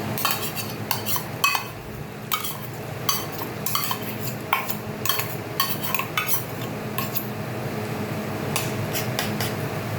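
A spoon clinks and scrapes against a metal pan while ground onion, ginger, garlic and green chilli paste is stirred in, giving irregular close taps and clatters over a low steady background hum.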